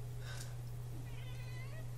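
A pet cat gives a short meow or two at close range over a steady low electrical hum, with no talking.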